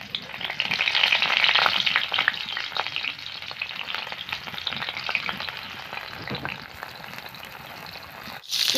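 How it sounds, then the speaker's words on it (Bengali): Pumpkin-leaf fritters with chepa dried fish crackle and sizzle in hot oil in a pan, loudest at first and then settling into a softer, steady bubbling hiss. "কড়াই তেল দিয়ে দিয়েছি, তেল ভালো করে গরম হয়ে গেছে। এবার দিয়ে দিচ্ছি বড়া।"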